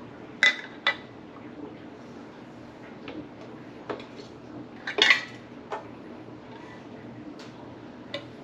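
Metal canning lids clink sharply against one another and against a magnetic lid catcher as they are fished out, making scattered close taps with quieter gaps between.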